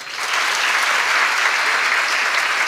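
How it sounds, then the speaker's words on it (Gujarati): An audience at a motivational talk breaks into dense, sustained applause for parents of daughters, loud and even from start to finish. "આ મા બાપને એક વખત તાળીઓથી વધાવો"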